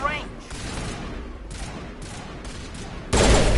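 Mass Effect gunfire in a squad firefight: rapid bursts of shots rattle on through the stretch, with a louder, denser volley crashing in near the end, steady and fairly close.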